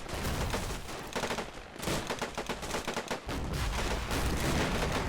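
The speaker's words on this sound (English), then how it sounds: "Do pay attention to the smoke and all the explosions and bullet impacts being carried away by the slow wind." Dense gunfire, explosions and bullet impacts in a WWII video game battle set during the 1944 Operation Bagration, with Soviet infantry; continuous loud crackling volleys with heavy booms, no pauses, no talk.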